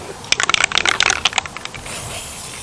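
An aerosol can of spray paint sounds in rapid, rattling bursts and then a steady soft hiss as paint is sprayed onto a tall container outdoors, close to the listener with no speech.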